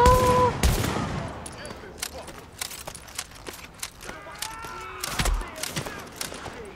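Bursts of gunfire in the video game Tom Clancy's The Division, sharp close shots and rapid volleys scattered across the moment with a few quieter pops between.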